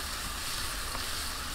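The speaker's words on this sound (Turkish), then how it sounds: "Birazcık şöyle bir kızartıp buzda beklettiğimiz noodle'ları koyacağız." Continuous bright sizzling of noodles frying in a hot pan outdoors in a forest, close and steady, with no voices.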